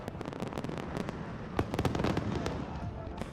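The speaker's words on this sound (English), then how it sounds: "Cruise received a sparkling send-off as he left the festival, and fireworks lit up the sky." Fireworks bursting over a film festival send-off, a dense run of sharp crackling pops and bangs, some overlapping, heard from moderately far away with no talk.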